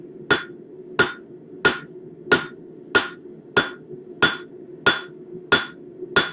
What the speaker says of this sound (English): we're using the cross peen to kind of make sure that we get the most movement along the